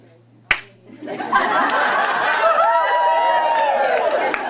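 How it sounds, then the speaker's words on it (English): One loud, sharp hand clap from a speaker at a talk on a stage, then a room of audience members murmurs and laughs softly. "I'm going to clap on 3"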